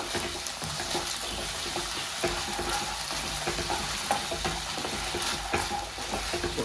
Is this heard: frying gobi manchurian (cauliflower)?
yes